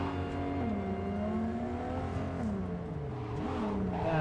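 A car engine in the video game Cyberpunk 2077 drones steadily, its pitch rising and dipping slightly as it revs, with no pauses throughout.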